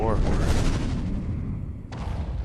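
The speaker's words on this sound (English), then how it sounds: "Sounded like I made an explosion" An explosion in the video game Conan Exiles, a loud boom with a rolling, crackling tail that slowly fades, followed by a sharp second impact near the end.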